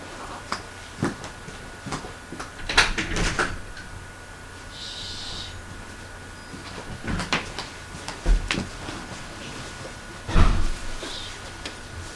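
Knocking at the front door is followed by the door being opened, a series of scattered knocks, clicks and thuds with quiet gaps between them, moderately loud and without talk.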